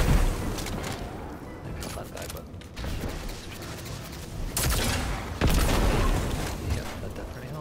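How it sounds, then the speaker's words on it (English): Rocket launcher explosions in Destiny 2, several booming blasts and crackling bursts among mechanical game sounds, with a voice talking over the gunfire. "if you get rocket launcher kills, they count as precision because that explosion hits them everywhere"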